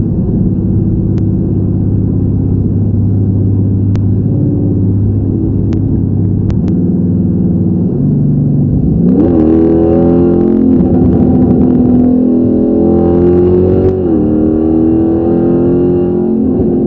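A Dodge Charger with a Magnaflow XMod exhaust starts cold, with a deep, steady exhaust rumble that swells into a revving burst partway through, loud and close with no talking.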